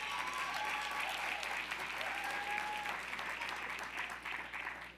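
Steady audience applause fills a large hall during a city council address, heard faint and distant, a dense continuous patter with a few faint voices or whistles mixed in.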